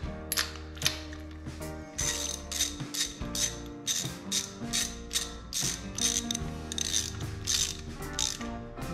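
A ratchet tightening a spark plug on a 1978 Kawasaki KZ400, producing repeated rapid clicking bursts in an even rhythm, close and clear, with no talking.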